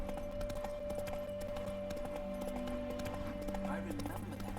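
Roach's hooves in The Witcher 3: Hearts of Stone clop in a steady, moderately close rhythm, with people talking throughout.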